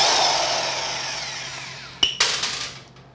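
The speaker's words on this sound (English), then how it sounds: "let's go ahead and take these bolts off" A power tool loosens the engine case bolts on a Honda Grom motorcycle. A high whirring motor winds down, then several close, sharp bursts rattle out in quick succession.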